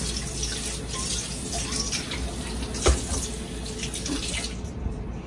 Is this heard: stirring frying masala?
no